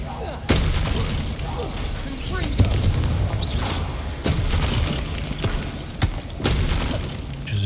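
Spell blasts and booming impacts in the video game Hogwarts Legacy, including the Incendio fire spell, sharp repeated hits and rumbling bursts over continuous game sound, with a player's voice talking.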